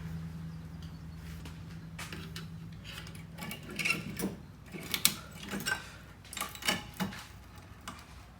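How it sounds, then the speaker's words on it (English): Metal scraping, tapping and clinking as a seized, rust-bound rear brake pad is worked loose on a 2011 Honda CR-V, with a low steady hum under the first few seconds, then irregular sharp knocks and scrapes, close by. "this brake pad is seized in, rusted in on the back"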